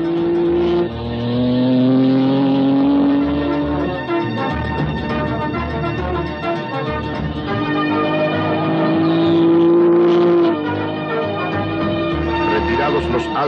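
Racing cars in the 1953 Mille Miglia road race in Italy, loud engine drones rising and falling in pitch as cars rev and pass, overlapping one another with narration running on top.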